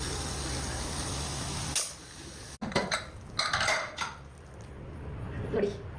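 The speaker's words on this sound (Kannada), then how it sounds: "ಈಗ ಕುಕ್ಕರ್ ಮುಚ್ಚಳ ಮುಚ್ಚಿ" A pressure cooker lid clanks shut over fish curry in a home kitchen, a few sharp metallic clicks and knocks close by, with a steady background hiss before them.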